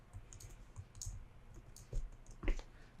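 Faint clicking of computer keyboard keys typed in a few scattered, irregular taps, quiet and close, with no talk.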